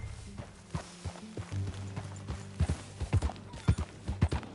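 Horse hooves clip-clop at a walking pace while riding in Red Dead Redemption 2, a series of close, rhythmic thuds that grow more regular and pronounced toward the end, with no talking.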